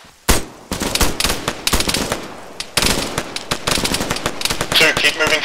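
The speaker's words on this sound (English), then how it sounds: "We're taking tracer fire north-northwest as well." Rapid bursts of automatic gunfire and tracer fire crack loud and close in an Arma 3 firefight, with irregular volleys and single shots overlapping, while voices talk on the radio.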